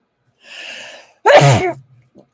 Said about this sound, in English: Hang on, I'm about to sneeze.